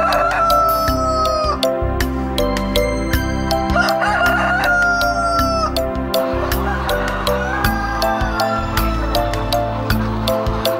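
A village chicken rooster crows repeatedly over steady clucking and busy farmyard noise. The crowing is loud and continuous, with other fowl close by.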